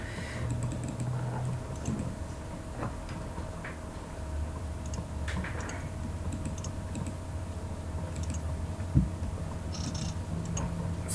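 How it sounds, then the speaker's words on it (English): Computer keyboard typing under a steady low hum, with light scattered keystrokes across the stretch and one sharper tap near the end, fairly quiet and close, with no voices. "I'm just typing it on Skype"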